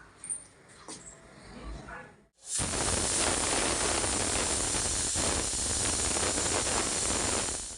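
A pressure cooker whistle bursts out with loud, steady hissing steam while chole cook inside, following a quieter stretch of faint kitchen sounds and continuing unbroken to the end.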